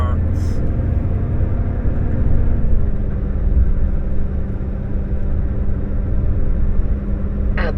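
A truck loaded with car parts drives along a road, a heavy continuous low engine rumble and tyre drone that holds steady, with a brief higher sound at the start and end.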